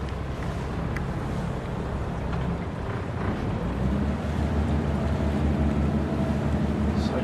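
A twin-engine boat manoeuvres out of a dock, its engines giving a low steady rumble mixed with wind buffeting the microphone and water washing nearby, continuous and fairly loud throughout.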